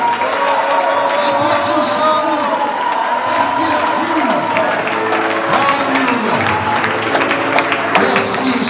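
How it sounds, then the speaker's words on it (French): A church congregation claps and cheers during a prophetic worship service, a loud continuous wash of applause and voices with music or singing tones running underneath. "Laisse-moi applaudir le grand Saint-Esprit"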